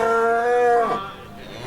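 Cattle at an agricultural show: one long, loud, close moo that rises and then drops in pitch before trailing off into quiet background.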